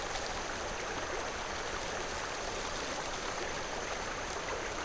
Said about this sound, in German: Dieser plätschernde Bach.